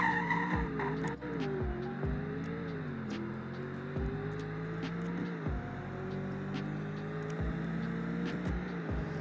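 A V8 car doing donuts, tires squealing and skidding continuously over a rumbling engine that rises and falls, with repeated surges as the car circles, close and loud.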